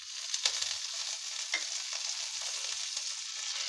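Curry leaves hit hot oil on a tava beside frying seer fish, giving a soft steady sizzle with a couple of brief crackling pops near the start and middle, no voices.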